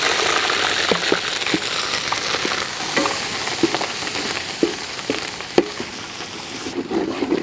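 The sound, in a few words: crushed ginger and garlic frying in coconut oil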